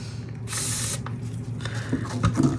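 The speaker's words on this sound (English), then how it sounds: "I'm going to spray this one" A short, close aerosol-style spray hisses for about half a second while a layer is coated, followed by faint clicks, handling noises and light mechanical clatter.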